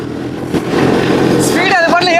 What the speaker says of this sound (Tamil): அந்த ப்ரொப்பலர் சுற்றுறதே பயங்கரமாக இருக்குங்க